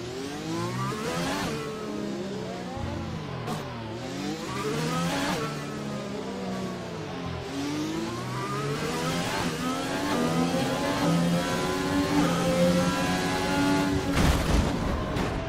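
Formula 1 car engine in the F1 2020 racing game at Monaco, repeatedly revving up and shifting through gears with rising and falling whines, loud and continuous, with no talking.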